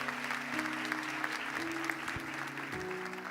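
A church congregation applauds during an evening service, a soft, steady wash of clapping mixed with sustained musical tones that stays fairly even throughout.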